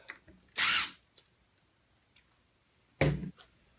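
A power drill removes wood screws from a horn mounting board in two short, loud whirring bursts with a quiet pause between them, plus a few faint clicks and handling noises.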